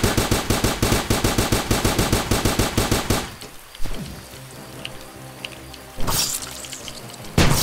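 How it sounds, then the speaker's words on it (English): Rapid machine gun fire from the video game Starbound rattles in an even burst of sharp shots for about three seconds, then stops, leaving a faint hum and a couple of later thumps. "But I am going to use the machine gun"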